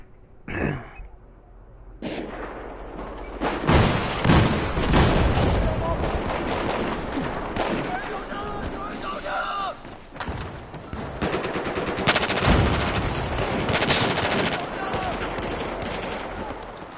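Rapid bursts of 6.5x25 gunfire in Battlefield 4 crack loud and close, automatic volleys stacking over several seconds with echoing reports and scattered game effects.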